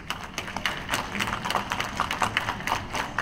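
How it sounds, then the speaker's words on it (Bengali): Scattered clapping at UN headquarters during a speech, light and uneven, with irregular claps spread across the moment at moderate loudness. "মাঝে মাঝেই করতালিতে মুখরিত হয় জাতিসংঘের সদর দফতর।"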